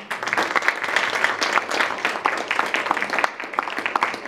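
Steady round of audience applause for school board candidates at a community candidate forum, a room full of dense, even clapping that holds at a constant level throughout.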